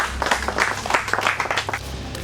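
Trivia competition contestants clapping for each other after a correct answer, a short patch of light, scattered applause from a few people, moderately close, with a faint low hum underneath.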